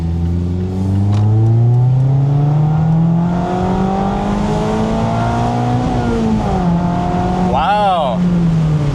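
A Mazda Miata sport model running a Fab 9 tune revs hard through its rising range, the engine note climbing steadily, dipping, then winding up again, with a brief tire-like squeal near the end; loud and close throughout.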